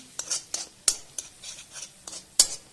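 A spoon scrapes and stirs thick rajma masala in a pot once the oil has separated, with a series of irregular sharp metallic clinks and scrapes over a faint sizzle and no talking.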